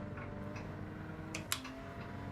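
Faint ticking from traction control in the Rennsport racing game, a few soft clicks over a steady low engine drone with the engine volume turned down.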